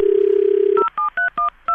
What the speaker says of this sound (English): You'll just hear it ring like a normal phone.